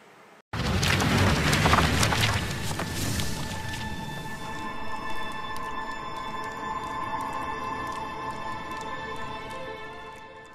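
Steady rain on a gloomy day in Britain, a dense continuous hiss with scattered drops and patter, loud and close, running unbroken throughout with no talking.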